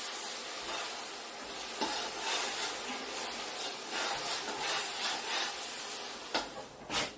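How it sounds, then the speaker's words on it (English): Benachin jollof rice with oysters is stirred in a pot: a soft, steady sizzle with intermittent scraping strokes, a few sharper knocks near the end, and no talking. "Then I'll stir it."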